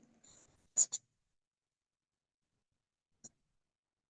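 Faint scratching of a pen on paper while writing out a marketing plan, a couple of short quick strokes followed by a lone tap, very quiet in an otherwise silent room.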